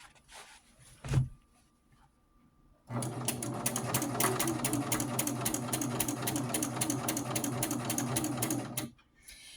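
A sewing machine runs steadily for about six seconds, stitching a pant hem with a fast, even mechanical rattle, preceded by a soft thump and a quiet pause, then stopping abruptly.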